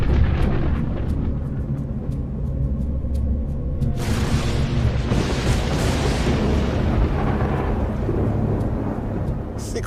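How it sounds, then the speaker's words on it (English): Loud thunder booms over the granite walls of Yosemite during a storm, a long, deep rumble that swells into a sharp, crackling peal midway and keeps rolling with heavy reverberation. "the thunder was the loudest they've ever heard"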